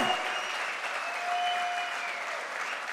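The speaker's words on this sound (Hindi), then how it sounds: "एक बार जोरदार तालियां होनी चाहिए विनर टीम के लिए भी, जोरदार तालियां।" Loud, sustained audience applause at a direct-selling motivational event, cheering the winning team; dense clapping holds steady throughout, with faint tonal sounds in the background.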